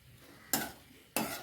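A spoon scrapes through thick egg masala gravy in a pan, two quick, distinct stirring swipes with a soft sizzle in between, close and fairly quiet.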